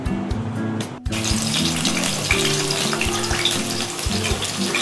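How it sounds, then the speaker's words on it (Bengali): Paneer satay skewers sizzling in hot oil, a steady dense hiss and crackle with faint background music, close and continuous after a brief dip at the start. "এবার এগুলোকে তেলের মধ্যে ভাজবো।"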